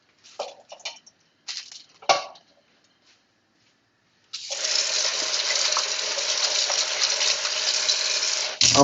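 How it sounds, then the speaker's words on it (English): After a few light clinks and knocks in a sink, a tap opens and food is rinsed under a steady, loud stream of running water that splashes continuously for several seconds until it shuts off. "I'm washing it first before using it."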